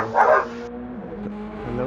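A dog barks a short burst of yips near the start, heard during a sim-racing stream of the Nürburgring Nordschleife 24-hour endurance race. A steady engine drone runs underneath the whole time.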